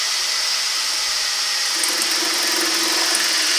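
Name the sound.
wood lathe turning a bowl, cutting with a bowl gouge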